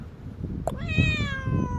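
A cat gives one clear, drawn-out meow close by, rising and then falling, after a brief short chirp, with low room noise behind it.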